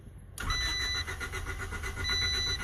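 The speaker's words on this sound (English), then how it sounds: "we're going to see if this thing starts. So it's an 88 Civic DX." A 1988 Honda Civic DX engine cranking without catching, a steady rhythmic whirring starter drone that begins suddenly and keeps churning at a fairly loud level, close by, no talking.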